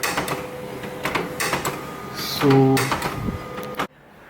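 An old printer prints a page, fed wirelessly from an iPad: a close mechanical whir and clatter with a rising motor hum that stops abruptly, while a voice talks over it.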